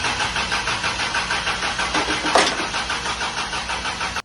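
A Toyota Land Cruiser FJ62 engine cranks with a steady pulsing rhythm, then catches with a sharp rev and settles into a loud, rough idle close by.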